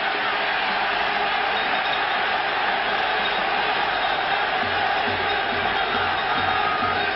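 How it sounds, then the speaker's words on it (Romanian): A stadium crowd roars and applauds during the 1987 Romania vs Spain Euro-88 qualifying football match. The broad crowd noise is steady and loud throughout and sounds muffled, as in an old broadcast. "Aplauze meritate."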